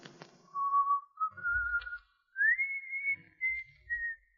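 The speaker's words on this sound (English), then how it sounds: "his lips puckered into a whistle as his keen eyes roved the room" A man whistles a slow, wavering melody of long sustained notes that glide upward in pitch, fairly close and clear, with soft low thumps in the background and no speech.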